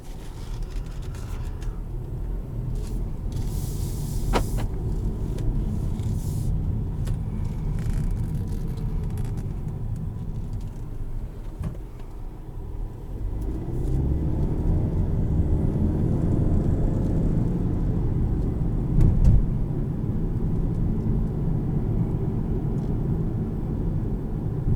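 A 2017 Volkswagen Passat R-Line on the move gives a steady low road rumble and engine drone heard from inside the cabin, growing a little louder partway through, with no one speaking.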